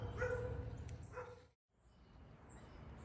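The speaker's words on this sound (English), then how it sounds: "A lot of dogs out here." Dogs bark outdoors near a 1965 house in Tyler, Texas, a few distant barks early on, then a brief drop to silence and a quieter outdoor ambience.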